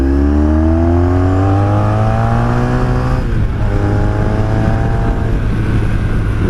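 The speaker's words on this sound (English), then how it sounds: "Let's take this bike on a little bit of twisties here." A 1983 Honda V4 motorcycle engine drones loud and close while riding a twisty road, its pitch sweeping upward through the gears, easing briefly midway, then climbing again under steady wind noise.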